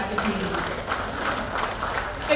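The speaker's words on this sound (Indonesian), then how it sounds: "Tepuk tangan untuk IDI Kota Kediri." Applause from a gathering of doctors at an evening event in Kediri, a steady wash of many hands clapping at moderate loudness with talk underneath.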